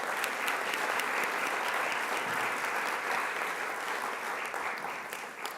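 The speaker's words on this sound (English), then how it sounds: "round of applause." Audience at an annual general assembly gives a sustained round of applause, dense steady clapping from a large crowd that holds level and eases slightly at the end.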